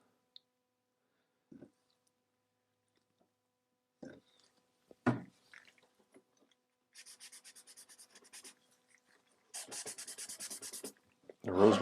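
Rosewood stain is rubbed by hand onto damaged wooden furniture, producing faint scattered scuffs and then two quiet runs of rapid back-and-forth rubbing strokes.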